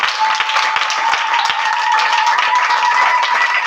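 A church congregation claps and cheers in acclamation during a sermon, a loud, close, dense burst of hand clapping with voices and a sustained tone mixed into the din throughout.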